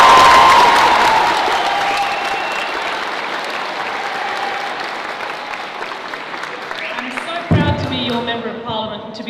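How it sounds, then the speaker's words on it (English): Crowd cheering and applauding loudly in a school stadium hall at a grand opening, dense clapping and shouts fading slightly before a fresh burst near the end, with voices mixed in. "Give them a cheer, everyone."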